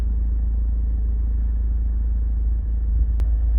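Honda CR-V 2.2 i-DTEC EX 4WD Euro 5 diesel engine idling steadily, a low, even rumble close by that holds constant without revving and with no talk over it.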